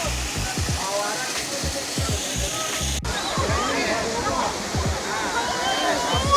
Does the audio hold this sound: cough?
no